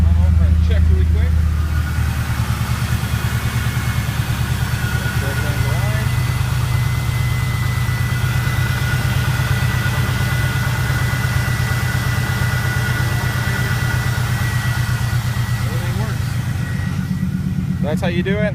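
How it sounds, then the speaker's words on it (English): An LS1 V8 in a 1998–2002 Camaro is running at a steady, rumbling idle, close by and continuous, with a brief higher rev at the start and a voice speaking over it. "So I'm going to push the clutch, push in, turn key start, fire right up"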